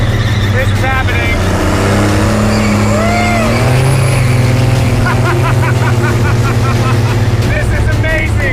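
A Cummins 5.9L diesel swapped into an El Camino runs loud and steady with a deep droning rumble, while people cheer and talk excitedly over it.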